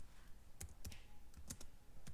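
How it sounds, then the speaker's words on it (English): Several crisp clicks of keys on a computer keyboard as a command is typed into a Linux terminal, coming in a loose, irregular run of quick taps, faint and close with no talking. "So you can just type e python 3"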